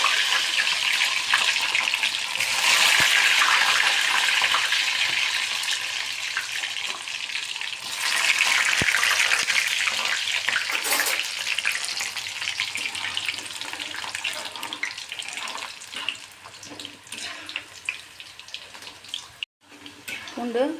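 Garlic dropped into hot oil already crackling with mustard seed, cumin and fenugreek, giving a loud steady sizzle that fades somewhat, with a person talking over it.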